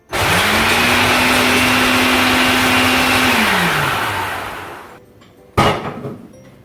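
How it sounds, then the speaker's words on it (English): A kitchen food processor whirs loudly for about four seconds, its motor pitch holding steady and then dropping as it winds down, followed by a single sharp clunk. "I'm getting the food processor out."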